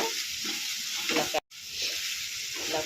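Grated potato fries in a pan with a steady, close sizzle and faint stirring scrapes, interrupted by one very brief cut of silence midway.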